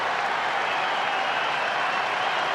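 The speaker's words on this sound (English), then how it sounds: "Crowd urging on Morel" A baseball crowd at a Mets–Cubs game roars steadily in the bottom of the ninth, urging on batter Morel, a dense continuous cheer with applause and no break throughout.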